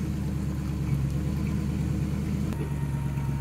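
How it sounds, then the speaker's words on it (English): An off-road recovery truck idles with a steady, close mid-low engine drone and a faint sustained whine from the power steering after a thrown belt. A short tonal shift comes partway through, and no voices are heard. "We just threw our belt, it sounds like. Our power steering's whining."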